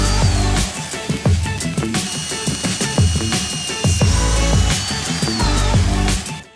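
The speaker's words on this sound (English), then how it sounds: "Now I'm just drilling the holes through the tang of the blade." A power drill bores holes through the tang of a knife blade, with metallic clicks, grinding and sharp clatters in an irregular busy rhythm, close and loud with no voices.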